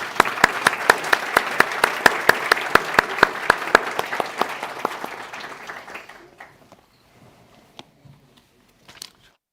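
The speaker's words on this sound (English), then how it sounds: "Please join me in thanking Tobias for his presentation with a round of applause." Conference audience applause begins as a rhythmic round of clapping, fairly close and even, then thins out and fades to a few scattered claps and quiet room noise.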